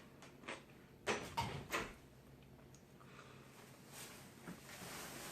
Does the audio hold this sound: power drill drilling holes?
no